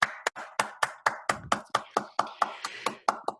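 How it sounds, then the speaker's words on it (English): A small audience claps at a public-speaking club meeting, welcoming a speaker to the lectern. The claps are sparse and fairly near, about fifteen individual claps in a steady rhythm with no other sound. "let's give a round of applause for Graham Cairns."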